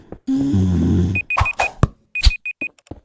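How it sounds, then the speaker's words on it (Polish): A short series of high electronic beeps in quick groups, mixed with clunks and brief bursts of noise after a low droning hum. "To ma prawie dźwięk jak mój budzik w telefonie."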